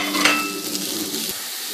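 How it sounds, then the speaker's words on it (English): Onions fry in a pan with a steady close sizzle, broken by a few clinks and scrapes of stirring against the pan, with no talking. "So the onions are cooking nicely."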